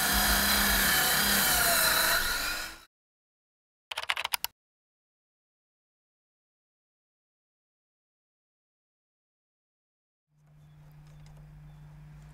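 A saw cuts steadily through wooden decking boards for a few seconds, then stops; a brief rattle follows, and after a long silence a low hum and rustling return.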